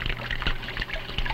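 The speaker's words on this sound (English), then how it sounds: "the water is coming out of this pipe I have stuck in this aquarium, and the water's shooting up and holding the balloon up" Water shooting up from a pipe stuck in an aquarium, a continuous close splashing and gurgling rush with no pauses.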